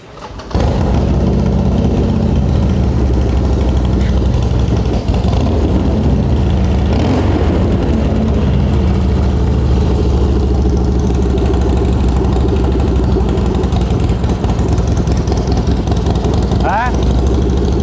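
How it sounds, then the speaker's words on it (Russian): A Harley-Davidson XR1200 Sportster motorcycle engine starts and settles into a steady, loud idle with a low, even rumble throughout, close by. "Работа мотора. Мне очень нравится, как он заводится."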